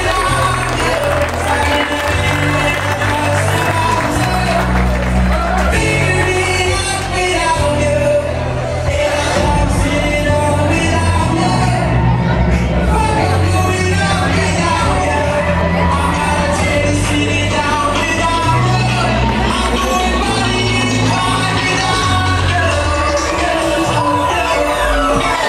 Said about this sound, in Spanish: Fuerte el aplauso para María y Trinidad Fernández.